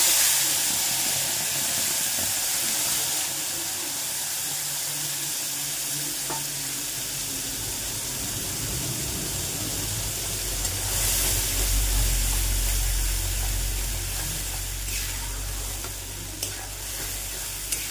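Ginger, garlic and onion frying in a pan with whole cloves, cardamom and cinnamon for egg korma: a continuous loud sizzle and hiss with occasional stirring scrapes, close up, no talk.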